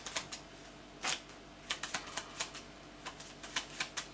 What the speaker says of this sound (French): on va mélanger le jeu.